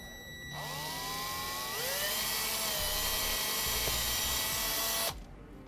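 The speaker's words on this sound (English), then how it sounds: "now we'll drill a hole to mount our switch" A power drill bores a hole into the dash of a 2017 Chevrolet, a loud continuous whine that starts abruptly, rises in pitch as it spins up, holds steady for several seconds, then cuts off.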